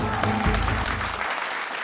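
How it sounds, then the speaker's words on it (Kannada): Studio audience on a Kannada game show breaking into loud applause, a dense burst of clapping that fills the first second and then fades off quickly. "ಜೋರ್ ಚಪ್ಪಾಳೆ"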